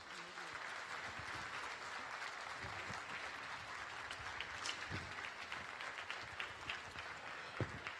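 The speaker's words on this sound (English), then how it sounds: "Let us welcome them with a round of applause" An audience rises and applauds guests of honor at the inauguration of a new university campus in Kampala, Uganda: continuous, distant-sounding crowd clapping holds steady throughout, with a few sharper claps standing out near the end.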